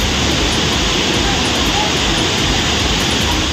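Silver Cascade waterfall in Kodaikanal, swollen after heavy rain, roars as a loud, steady broadband rush that fills the whole stretch without a break.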